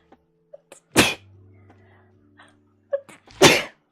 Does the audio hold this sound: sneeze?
yes